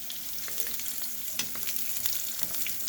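Flipped salmon fillets frying in a pan for orange-ginger salmon, giving a steady, fairly quiet crackling sizzle with scattered small pops and occasional soft utensil contact, close by and without any voices.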